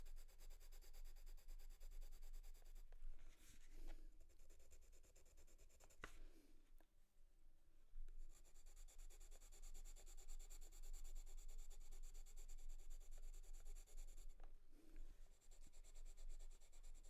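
A pencil is swatched back and forth on paper, giving soft, steady close-up rubbing and scratching strokes that continue almost without pause, with small gaps and faint handling noises between passes.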